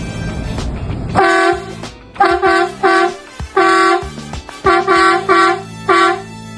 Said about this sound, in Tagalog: it's a dual compressor electric air horn.